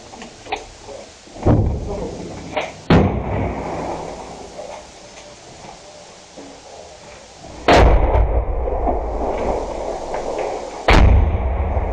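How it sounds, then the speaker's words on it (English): Heavy, booming explosions from the war in Ukraine go off at intervals, with deep rumbling and crackling lingering after each blast; faint voices are in the background. "Some heavy explosions out there"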